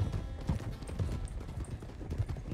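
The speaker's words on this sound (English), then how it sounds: "Yeah, she got the same horse as Boyd." Horse hooves clip-clop steadily on ground in Red Dead Redemption 2 (RedM) roleplay, a soft rhythmic trotting at low volume over a muffled outdoor bed, with faint voices in the background.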